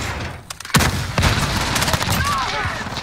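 Dense automatic gunfire from an MP7 submachine gun rattles continuously in a Call of Duty: Modern Warfare (2019) Hardpoint match on PC, loud and sustained with game effects around it.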